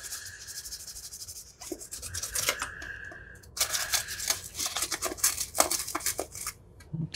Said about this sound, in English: One more little scrub.